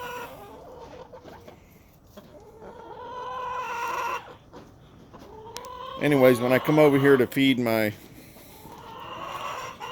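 Rhode Island Red hens cluck and squawk close by while they scratch around a backyard flock at feeding time, a burst of loud, excited calls near the end, with someone talking over them.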